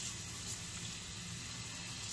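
Water runs steadily while a mother's hair is rinsed, a continuous hissing stream with no talk.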